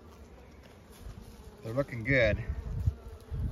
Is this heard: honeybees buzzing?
yes